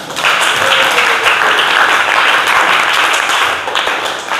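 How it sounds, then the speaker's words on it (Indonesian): Loud, dense clapping from a group of schoolchildren in a classroom lesson, a steady unbroken wash of applause lasting several seconds. "Tepuk tangannya."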